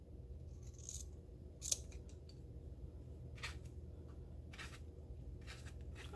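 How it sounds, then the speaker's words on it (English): Scissors snip the fabric corners of a sewn cloth compress, giving a few faint, crisp clips spaced irregularly over a quiet background, with one sharper cut standing out near the start. "We're going to come through and we're going to clip our corners"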